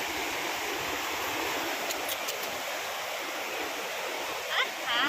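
River water rushes continuously at Devprayag, a broad steady roar of flowing water nearby with no talk over it.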